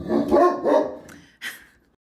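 A dog gives a few close, sharp barks in quick succession, followed by a brief higher yip, with no voices over it.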